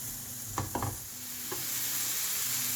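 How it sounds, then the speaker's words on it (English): Chopped onion sizzles in a hot frying pan with a steady hiss, while a few quick scrapes and clinks of stirring come early on. "I just fried this onion for 1 minute"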